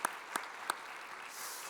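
At a Korean church Sunday sermon, three quick, faint claps land about a third of a second apart, followed by soft hiss and quiet room noise.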